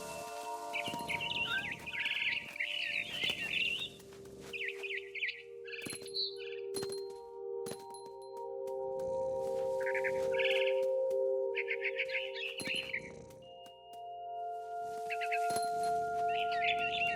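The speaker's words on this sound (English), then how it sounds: "Then I heard chirping outside my window. It was a barn swallow going back to her nest." A barn swallow chirps in the video game What Remains of Edith Finch, with clusters of quick high tweets recurring over a steady low ambient hum, moderately loud and without speech.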